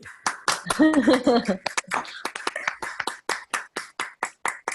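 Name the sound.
applause for Pedro in an online class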